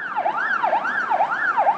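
An ambulance siren wails, rising and falling in steady repeating sweeps, about four cycles, clear and fairly close with faint traffic rumble beneath.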